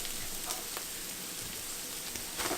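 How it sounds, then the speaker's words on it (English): Garlic and paprika frying in a pan, a soft, steady crackling sizzle at moderate distance with a few sharper pops and a brief stirring scrape near the end. "I'll go ahead and add the garlic and cook it for about 30 seconds to a minute"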